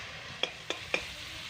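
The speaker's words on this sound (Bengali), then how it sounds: "পেঁয়াজটাকে খুব সুন্দর করে ভেজে নিয়েছি। এবার একে একে সমস্ত মশলাগুলো এর মধ্যে" Onions fry in a pan under a steady low sizzle, with three sharp light clicks of spices and a spoon going in.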